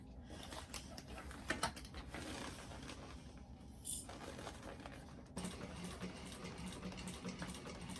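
A sewing machine top stitches a bag, running as a faint, steady mechanical whir with occasional small clicks and taps, briefly pausing before resuming.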